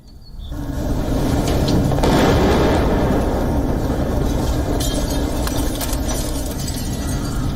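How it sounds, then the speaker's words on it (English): A missile strike explosion on a Kyiv street erupts into a loud, sustained roar of blast and rumble with debris, close and dense, continuing for several seconds after a brief quiet start. "It was right at this moment when a missile struck."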